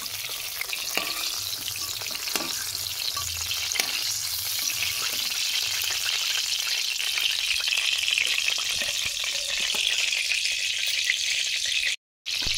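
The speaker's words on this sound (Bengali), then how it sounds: "পটলটাকে আমি একটু লাল লাল করে ভাজবো" Pointed gourd pieces frying in hot oil for a prawn and gourd dish, a loud continuous sizzle close up with occasional stirring scrapes, running steadily and cutting off briefly near the end.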